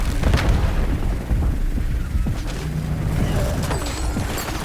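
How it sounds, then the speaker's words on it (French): A precision missile strike in Call of Duty Black Ops 7 multiplayer, a loud booming explosion with a heavy low rumble that rolls on amid ongoing battle noise and sharp bursts. "Missile de précision."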